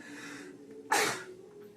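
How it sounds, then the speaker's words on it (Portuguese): One sudden, loud sneeze cuts through a quiet room after a faint hum of background sound. "Desculpe aí o espirro."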